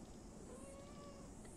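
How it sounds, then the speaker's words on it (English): A house cat meowing faintly, a single short rising call alone over steady background hiss. "My cat's come to say hello."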